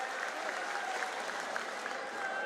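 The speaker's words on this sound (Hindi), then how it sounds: "उनके लिए मैं आप सबसे आग्रह करता हूं जोरदार तालियों से स्वागत करें" A crowd at an outdoor political rally for a farmers' justice march in Ujjain applauds to welcome a guest, giving a steady, fairly distant wash of clapping with a faint murmur of voices beneath.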